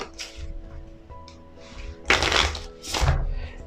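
Thin Night Flights playing cards are riffle-shuffled close by, giving two quick rustling, fluttering bursts over a quiet background hum.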